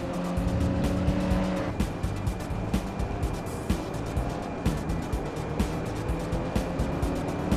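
Chevy Volt eco car driving in a Forza racing game, a steady close engine and tire hum with squeals and clicking game sounds, no talk over it.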